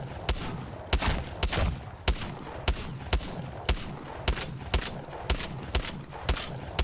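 Auto shotgun firing in Apex Legends, a steady run of about fifteen evenly spaced, booming blasts, each with a short noisy tail, heard alone without talk.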